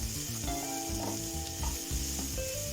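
Carrots frying lightly in a pan for a spicy egg pasta, a steady close sizzle with stirring scrapes and soft clinks running through the short stretch, no voices.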